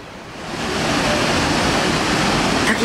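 Loud, steady roar of a high-volume waterfall in Shosenkyo gorge during an autumn hike, a continuous broadband rush that swells in the first second and then holds evenly.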